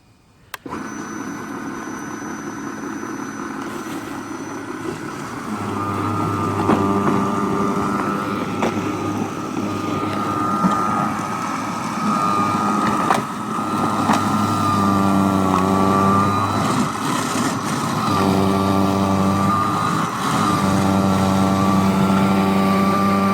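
Brushless 50V Spyker KAT 2X snow blower motor starting up and running, a strong, steady electric whine with a humming drone that swells and dips as load changes, continuing loud and close throughout.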